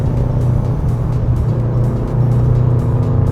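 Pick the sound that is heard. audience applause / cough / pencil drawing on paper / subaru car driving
subaru car driving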